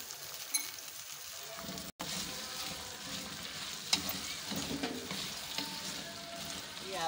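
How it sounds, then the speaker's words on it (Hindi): Okra frying in a pan for bhindi masala, giving a steady close sizzle with occasional stirring clatter and scrapes, continuous throughout with a brief dropout near the start. "ये आप देखिए, ये अच्छे से भिंडी फ्राई होगी"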